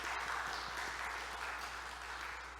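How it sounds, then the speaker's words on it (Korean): Faint, distant applause from a church congregation for its choir during a Sunday service, a soft, even patter of clapping lasting a few seconds. "우리 다시 한번 박수로 격려를 해주시면 좋겠습니다."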